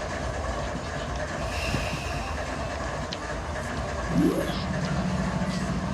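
A train locomotive in the Run8 train simulator game rumbles steadily with rail clatter and a constant low drone, a brief rising tone partway through, and a voice speaking over it.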